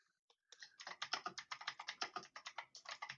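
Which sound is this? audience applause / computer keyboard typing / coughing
computer keyboard typing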